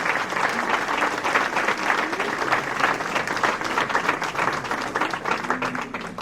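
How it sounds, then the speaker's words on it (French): Audience at a village New Year's greetings ceremony in Saint-Martin-de-Hinx claps in a dense, sustained burst of applause that holds steady throughout, loud and close, with faint voices mixed in. "On peut les applaudir."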